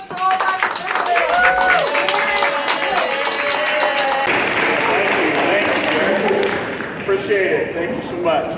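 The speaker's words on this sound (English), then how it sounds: "Another big round of applause for all my participants." An audience at a school health event claps for the participants, a dense sustained patter of applause that builds and carries on steadily, with a voice speaking over the start.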